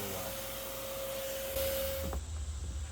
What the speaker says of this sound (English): They go right over the hole and they get sucked right into the vacuum.